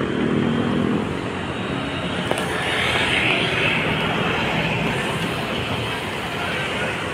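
A trash skimmer boat's engine drones steadily on the Pasig River, a continuous loud rumbling hum close by with no pauses.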